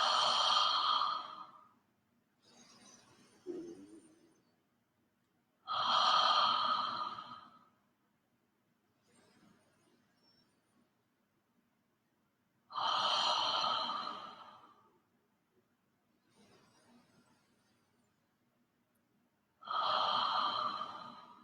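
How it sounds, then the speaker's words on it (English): Slow, deliberate breathwork: four long, forceful breaths at roughly seven-second intervals, each followed by a fainter, shorter breath, close and alone in a quiet room. "exhaling fully, taking a deep breath in from the belly, up through the heart, and then practice letting go with that exhale."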